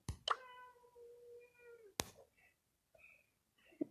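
A house cat meows in a quiet room: a drawn-out meow, then a shorter second one, with sharp clicks and soft knocks in between, all fairly faint and close.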